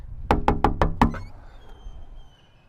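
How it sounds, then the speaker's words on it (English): Five quick, sharp knocks on a door rap out in an even rhythm, fairly close and crisp, followed by quiet room tone as they fade away. "somebody knocking"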